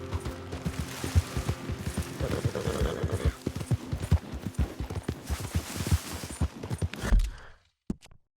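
Horse hooves clip-clop steadily on the ground in the video game Red Dead Redemption 2, a close, rhythmic gait over faint tack and gear rattles that stops abruptly near the end.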